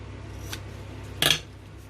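Scissors trimming paper for a Christmas envelope craft, two short close snips, a softer one followed by a sharper, louder cut, against quiet room tone.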